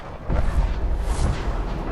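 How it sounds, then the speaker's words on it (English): A big explosion in the Fallout 4 video game booms out loud and close as a deep, rumbling blast that swells at once and holds as a sustained roar over two seconds. "Before the big explosion."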